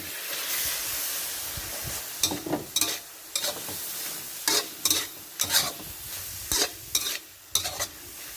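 Shrimp stir-fried in a pan with curry powder: a steady sizzling hiss broken by repeated sharp scraping strokes of a spatula stirring, close and fairly loud, no talking.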